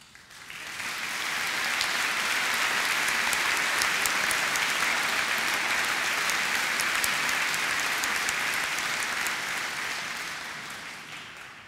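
Sustained applause from a large audience at a University of Dundee graduation ceremony, swelling quickly and holding steady for about ten seconds before tapering off, with no talk over it.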